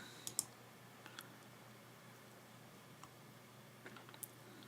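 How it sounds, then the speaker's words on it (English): Computer mouse clicks while running a WordPress database backup job, a few faint, sharp clicks scattered across a quiet background, with a close pair near the start and more near the end. "we're going to click Run Now"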